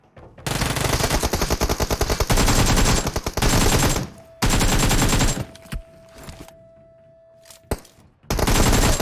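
PUBG Mobile gunfire: loud rapid automatic bursts in long rattling strings, broken by pauses and a few single shots, close and dominant with no talk over it.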